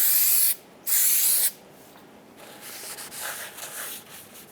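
Brake cleaner hisses from an aerosol can onto a Ford Explorer brake rotor in two loud bursts of about half a second each, followed by faint rubbing and scraping.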